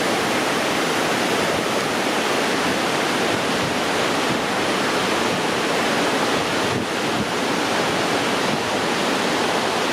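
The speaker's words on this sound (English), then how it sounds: "we're at DeSoto Falls" DeSoto Falls roars as a constant, thunderous wash of falling water, loud and close, with wind buffeting the microphone and no voices.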